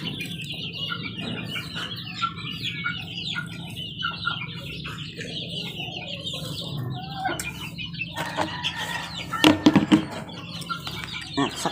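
Chicks peeping and chirping softly while being fed cooked egg indoors, with light clucking from fowl and a few brief louder chirps near the end over a faint steady hum.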